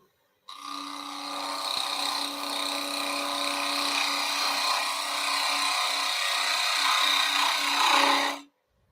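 Woodturning gouge cutting the outside of a wooden three-corner bowl on a lathe, a steady continuous scraping, rasping cut with a low hum running beneath, held close and loud for about eight seconds.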